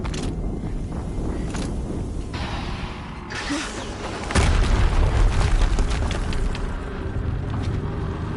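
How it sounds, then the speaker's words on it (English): Game explosions from Horizon Zero Dawn: a dense rumble of blasts and debris, then a heavy, loud boom near the middle that keeps rolling under continued noise. "Another explosion."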